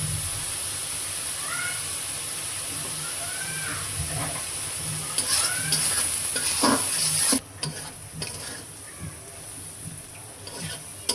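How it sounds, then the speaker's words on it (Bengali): Onion and green chilli frying in oil in a pan for papaya bharta, a steady close sizzle with stirring scrapes, while a cat meows nearby and a voice briefly speaks. "পেঁয়াজ মরিচটা লাল লাল করে ভাজে নিচ্ছি"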